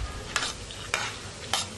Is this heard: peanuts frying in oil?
yes